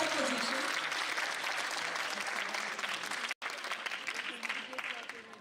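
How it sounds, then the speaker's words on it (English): Steady applause from a conference audience fills the whole stretch, dense clapping with a brief cut near the middle, fairly loud throughout. "Round of applause for Gengi Nakamura."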